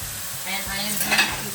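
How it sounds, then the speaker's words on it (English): Tomato sauce is stirred with lobster in a hot pan, giving a short close burst of sizzling and frying crackle with soft scraping stirs. "I am going to stir this around"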